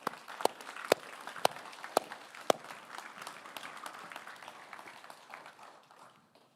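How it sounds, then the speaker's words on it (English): Audience applause at a school sports awards ceremony honoring a provincial rugby development team, a scattering of sharp claps rising into a steady, moderate patter from a hall crowd that thins out toward the end. "Show them a round of applause"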